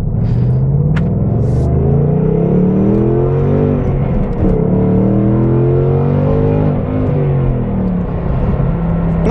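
A 2020 Ford Mustang Bullitt V8 rumbles steadily as it drives out onto a road, a deep continuous engine drone with gentle rises in revs and a few faint high clicks early on, close and loud throughout.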